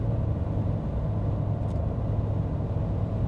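Inside the cabin of a Ford Ranger Raptor pickup cruising at 120 km/h, a steady low road and engine rumble hums at moderate level with no one speaking.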